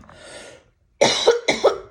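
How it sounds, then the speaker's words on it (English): A person coughing, a soft breathy sound followed by a pause and then two or three sharp, close coughs in quick succession, loud and alone. "my throat closes up and I start choking or coughing"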